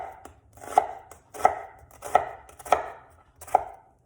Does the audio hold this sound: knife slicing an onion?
yes